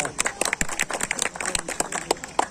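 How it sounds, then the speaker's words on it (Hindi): Audience at a Kashmir Society International awards ceremony for Sufi poets claps in a brief burst of sharp, uneven hand claps, with voices mixed in. "तालियां तालियां।"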